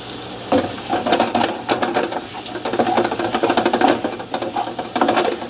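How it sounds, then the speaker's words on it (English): Shrimp sautéing in a hot pan, a steady close sizzle broken by rapid rattling and scraping strokes as they are pushed around, loud and alone. "we'll just saute this around till the shrimp are done"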